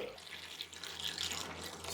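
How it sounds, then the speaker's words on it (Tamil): Cooled boiled water pouring steadily into a container of salted star fruit, a soft continuous splashing stream, fairly quiet and close. "அந்த ஆறின வெந்நீரை ஊற்றிடுவோம்"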